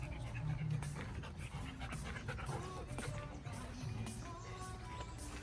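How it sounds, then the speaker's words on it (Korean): Dogs pant quickly and steadily close by at a holiday pool house, with a whimper here and there, under quiet, low household sound. "왜 또 짖었어"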